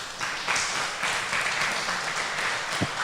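Congregation applauding inside a church during a sermon, a steady wash of many hands clapping at moderate distance, fairly even throughout with a brief thump near the end.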